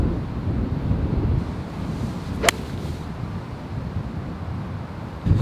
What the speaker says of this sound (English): that wind is really getting up